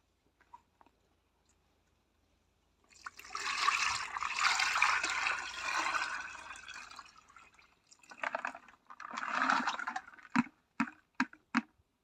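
A homemade organic insecticide spray mixture made from egg, jaggery and buttermilk is poured into a container, giving a steady liquid pour of several seconds followed by a few short splashes and drips, close and fairly loud with no talk.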